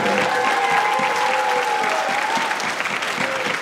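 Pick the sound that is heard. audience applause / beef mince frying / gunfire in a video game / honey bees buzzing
audience applause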